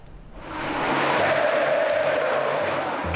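Palmeiras supporters, some 40,000 strong at Allianz Parque during a Brasileirão match against Flamengo, roar as one, a broad steady crowd wash that rises quickly and holds loud and distant-sounding for a few seconds.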